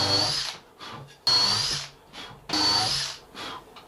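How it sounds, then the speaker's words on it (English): A power drill whirs in three loud bursts into wood curved trim during a wooden boat restoration, with brief pauses and quieter spins between them. "I'll just drill these out."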